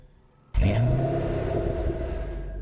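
A Ford Mustang V8 engine in the video game Test Drive Unlimited Solar Crown bursts to life and revs up, then holds a loud, steady growling roar close by.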